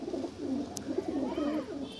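Pigeons of the Dhille breed coo softly and continuously in a loft, low throaty calls rolling in overlapping waves, close by, with no talk.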